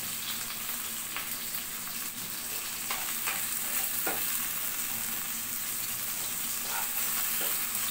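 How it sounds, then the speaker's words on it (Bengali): Fish frying in hot oil, a dense continuous sizzle heard up close, broken by occasional light scrapes and taps of stirring, with no voices. "মাছগুলো সব আমি ভেজে তুলে নিলাম"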